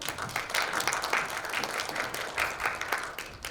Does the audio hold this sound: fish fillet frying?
no